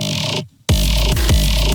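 Thick, heavy growl synth bass stacked with a second formant-filtered doubling layer, loud and dense, cutting out briefly before punching back in with rhythmic low hits.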